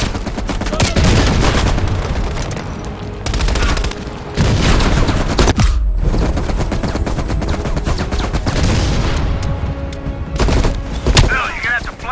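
Machine gun fire in Call of Duty: Black Ops Cold War, loud sustained bursts of rapid automatic shots with booms mixed in, broken by brief gaps, with voices over the battle.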